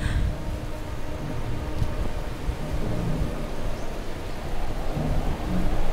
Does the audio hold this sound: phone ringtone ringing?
no